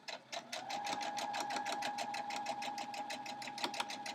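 A sewing machine stitches a quilt block seam in a fast, steady run of close mechanical clicks with a constant whirring hum, lasting a few seconds.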